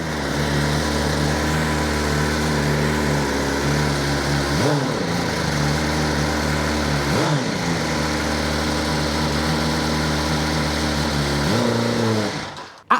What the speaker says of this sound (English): Coming out of this engine, you have a full titanium exhaust system, Acropovic exhaust system.